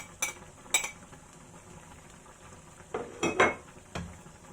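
Fried garlic stirred into chicken and pork adobo in a pan, a low sizzle under a few sharp metal clinks and scrapes of a spoon against the pan, close and irregular.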